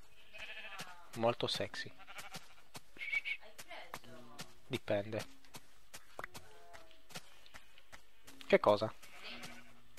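Sheep bleat in Minecraft, several short nasal bleats coming at intervals over quiet game ambience, with occasional talk between them.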